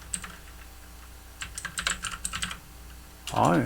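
A computer keyboard clatters with quick bursts of keystrokes, close and distinct, before a voice begins speaking at the end.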